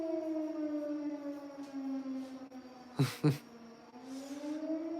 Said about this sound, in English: Every time the fire trucks take off from any of the local fire departments, they wail those sirens.